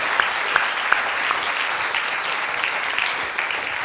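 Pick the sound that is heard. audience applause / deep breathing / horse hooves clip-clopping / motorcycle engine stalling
audience applause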